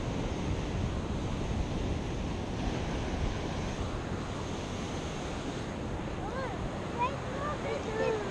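Big ocean waves break on the shore at Kalihiwai Bay, a continuous roaring wash of surf with gusty wind buffeting the microphone, steady and loud throughout.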